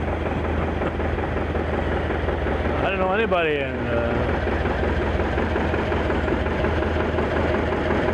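John Deere tractors drive past in a Memorial Day weekend parade in Chazy, a steady low engine drone and idling rumble filling the scene throughout while someone talks over it and a brief high squeal cuts through midway.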